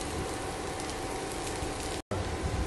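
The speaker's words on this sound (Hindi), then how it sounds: "ये टिक्कियाँ हमें मीडियम टू लो फ्लेम पे ही फ्राई करनी है," Potato tikkis fry on a griddle over medium-low flame, giving a dense, even sizzle like steady rain, close and continuous apart from one very brief dropout.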